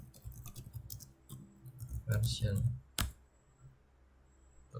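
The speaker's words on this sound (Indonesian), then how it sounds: "kita ketikkan Promtail main version" Someone typing a command on a computer keyboard: quick bursts of small clicks with a louder cluster in the middle and a sharp single tap, then near silence.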